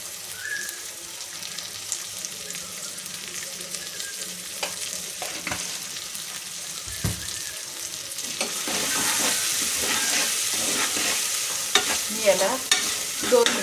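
Peas pulao cooks in a pan and is stirred through, a continuous sizzle of frying beneath repeated scraping and clinking of the spoon, growing busier and louder near the end, with no one speaking.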